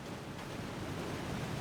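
A waterfall in a video game, a steady, even roar of falling water with broad rushing noise that holds constant throughout and has no other sounds over it.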